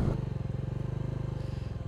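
A motorcycle idles close by on a road trip toward Atal Setu in Jammu and Kashmir, its engine chugging in a steady rapid pulse that stays loud and even for the whole two seconds as it comes to a stop.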